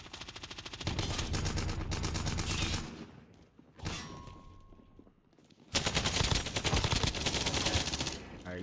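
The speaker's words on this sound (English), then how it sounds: "Stop shooting at me." Automatic and rapid gunfire in a Rebirth online shooter match, with loud sustained bursts at the start, a short burst midway and another long, dense volley near the end.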